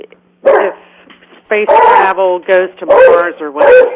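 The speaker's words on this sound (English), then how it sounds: "sorry about my dog" Pet dog yapping and whining in a room beside a man on a call-in radio show, a string of sharp high barks and whimpers in quick bursts that overlap and mix with his talking, close and loud.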